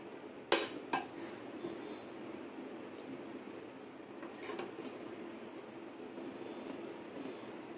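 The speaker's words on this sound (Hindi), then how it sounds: "चलिए इसे निकाल लेते हैं सर्विंग बाउल में।" Mutton keema stew being served from a pot into a serving bowl, with a couple of sharp metallic clinks of a spoon on the pot early on, followed by faint scraping and soft movements over quiet room noise.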